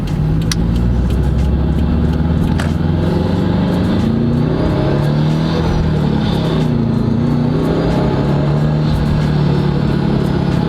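A supercharged Subaru BRZ engine runs loud and close, with a steady rumbling drone that rises and falls through mild revs across the whole stretch. No voices.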